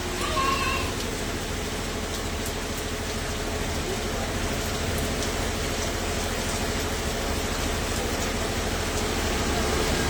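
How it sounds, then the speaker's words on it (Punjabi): Heavy rain pours steadily in Tapa Mandi, a dense, unbroken hiss that stays at an even level throughout. "ਕਾਫੀ ਬਰਸਾਤ ਹੋਣ ਲੱਗੀ ਹੈ"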